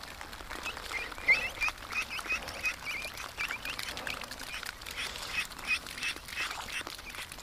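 Ducks on a muddy farmyard keep up a soft, steady run of quacks and chatter nearby, with no talking over them.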